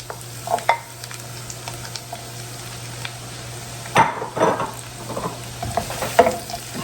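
Onions frying in melted butter in a pan for old-fashioned stewed tomatoes, a soft steady sizzle with intermittent scraping and stirring clatters, fairly close and without talk.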